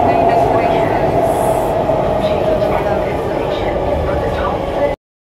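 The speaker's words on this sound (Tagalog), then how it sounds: "Ingay ng train" An MRT train passes close by with a loud, continuous rumble and steady wheel-on-rail hiss, keeping a broad, even roar for several seconds before cutting off abruptly.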